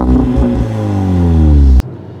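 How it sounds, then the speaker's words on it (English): Volkswagen Golf R engine revving loudly up close, a steady rising exhaust drone that cuts off abruptly with a sharp pop near the end. "that's true in the exhausts, which have a little pop and gurgle"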